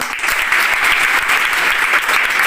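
Sustained, dense applause from a school audience at a government high school function, steady and loud throughout with no break.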